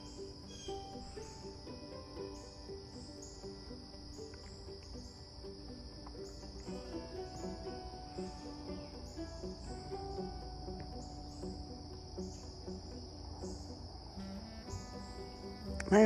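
Crickets chirp steadily in an English-style cottage garden, a continuous high pulsing trill that holds for the whole stretch, with faint bird calls in the background and no talk.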